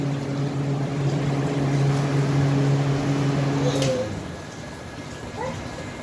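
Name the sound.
repaired air cooler running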